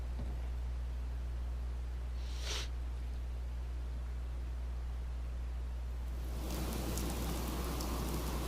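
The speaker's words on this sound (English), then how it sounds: "And it's raining." Rain falling in the Fallout 4 video game, a steady hiss of rainfall over a low constant hum that swells noticeably louder near the end, with one brief sharp sound midway and no speech.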